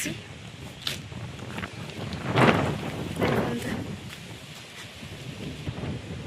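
Steady wind rushes and gusts across the microphone, swelling louder in the middle, with low rumbling buffeting throughout.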